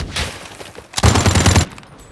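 Bursts of gunfire from a game of Call of Duty Mobile: a scattered volley of shots at first, then a louder, denser rapid-fire burst that stops abruptly, with no talk over it.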